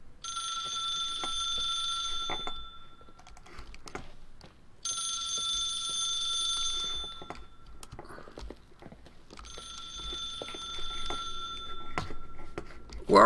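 A telephone rings in a video game set in a hotel, with three long bursts of ringing separated by pauses and faint footsteps and movement in between.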